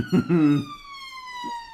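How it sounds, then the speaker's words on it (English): A siren wails past a window in South Bermondsey, London, its long falling tone sweeping steadily downward as it recedes, with a brief voice near the start. "Siren going by my window."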